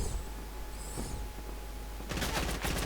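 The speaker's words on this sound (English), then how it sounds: "I was heading the right way into zone, until I started to get shot at." Gunfire in the video game Fortnite breaks out as a rapid burst of automatic shots late in the moment over a steady game background hum.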